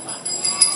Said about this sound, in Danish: Det er en trylleklokke, som Laura, hun holder godt fast i.